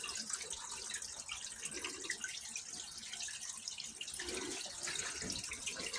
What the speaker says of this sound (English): That's got to be spring water.